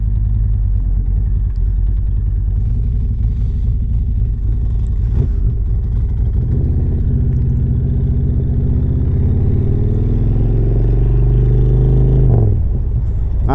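A 2018 custom Harley-Davidson Road Glide rumbles loudly on the road, its low engine drone steady with gradual throttle swells and a brief revving surge near the end, plus wind noise.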